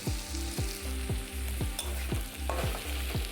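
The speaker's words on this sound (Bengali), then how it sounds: "গোটা জিরে আর গরম মশলা ফোড়ন দিয়ে তাতে গাজর আলু আর বিনস তুলে দিয়েছিলাম" Carrots, potatoes and beans fry in a cumin and garam masala tempering, giving a close, steady sizzle overlaid with a rhythmic series of regular knocking strokes about twice per second, with no talking.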